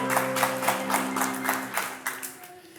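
Steady hand clapping in a home setting, about a dozen crisp claps in a quick, even rhythm that fade toward the end, over a sustained tonal hum.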